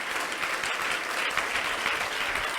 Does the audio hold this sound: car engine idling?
no